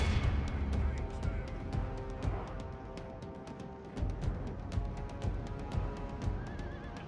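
A Third Age Total War battle fills the air with horses whinnying and hooves clattering. Rapid sharp cracks of missile fire from ranged units volley repeatedly over a dense, loud din, and voices are mixed in.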